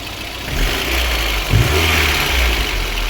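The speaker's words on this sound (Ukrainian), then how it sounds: "Отак працює машинка, працює на автомобілі, трошки чути клапана в направляючій але це ще не смертельно." A VAZ 21099 car engine runs steadily at idle, a loud, continuous low hum with a faint, light ticking from the valves in their guides throughout.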